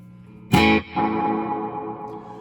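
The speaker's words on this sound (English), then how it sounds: "you get one pick attack, and that reverb wash, that's what gets delayed" One loud electric guitar pick attack stops short, then after a brief gap a delayed spring-reverb wash swells back in and hangs, gradually decaying.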